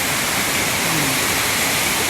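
Water pours steadily at Nang Rong waterfall in Nakhon Nayok, a loud, continuous broadband rush with no break, heard close up and alone.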